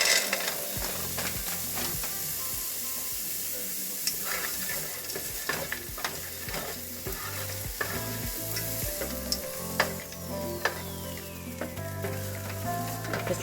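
Peas and carrots frying in saved ham drippings: a steady close sizzle with scattered stirring scrapes and clicks of a utensil against the pan throughout, no voices.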